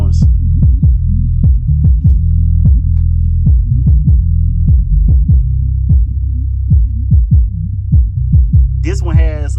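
A folded horn subwoofer plays deep, loud bass with a heavy throbbing low rumble and repeated sliding punchy bass hits, close and continuous, with a brief voice near the end.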